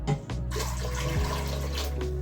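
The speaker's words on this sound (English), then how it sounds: "So in this, I'm gonna add 6 cups of water." Water poured steadily into a cooking pot for a beef and gravy dish with homemade egg noodles, a continuous close splashing, gurgling pour filling the pot throughout.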